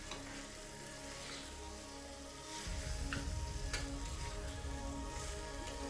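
Mutton curry with garam masala frying in a pan, a steady close sizzle that thickens and grows louder midway, with faint ticking stirs and no talk.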